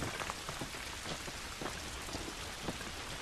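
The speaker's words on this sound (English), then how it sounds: "This rain ain't gonna do us any good." Steady rain falls outdoors in The Last of Us, a dense even hiss with scattered brighter droplet taps, moderately loud and continuous with no voices.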